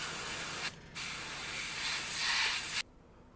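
An airbrush sprays RLM02 paint onto the undercarriage of an Eduard Bf109 E-4 scale model, giving close, loud, steady hissing bursts with one short break midway before cutting off.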